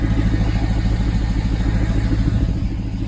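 A BMW X5 50i V8 with a bypass exhaust revs loudly and close up, a steady deep rumble with rapid pulsing throughout, alone with no talking.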